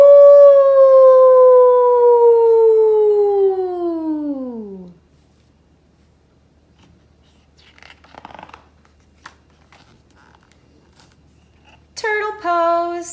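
During a children's yoga class, a voice imitates a wolf, holding one long howl that slides downward and fades after about five seconds, followed by quiet shuffling and a second, shorter howl near the end.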